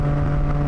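A Triumph Tiger 660 motorcycle with a Zard exhaust cruising at highway speed, its engine holding a steady, loud droning hum with no change in pitch over the brief moment.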